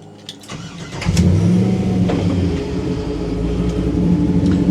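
A 525 hp LS3 V8 engine in a 1971 Pontiac GTO rumbles and revs up, then holds a steady deep drone as the car pulls away, loud and close throughout.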